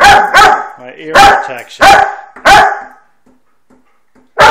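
Dog barking, five loud, sharp barks close by, spaced about a second apart with a pause before the last, and a person speaking briefly between them.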